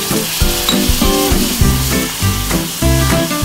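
Tadka for tea sizzling hard in a hot pan with mashed Oreo, loud close frying crackle in short stirred bursts.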